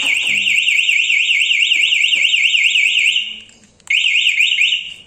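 A motorcycle alarm fitted to a Yamaha XSR wails in a loud, rapidly warbling electronic siren, cutting out briefly near the end before starting up again.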